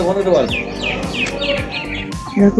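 Small birds chirp and tweet repeatedly around a rooftop among coconut trees in the early morning, quick bright calls fairly close, with a voice speaking alongside.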